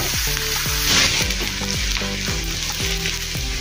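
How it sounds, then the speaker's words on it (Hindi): Steady loud sizzling of finely chopped onions frying in a hot pan, with occasional scraping and stirring clatter throughout. "इसमें हम अभी प्याज डालेंगे बारीक कटा हुआ। अच्छे से मिक्स कर लेंगे। और नरम होने देंगे"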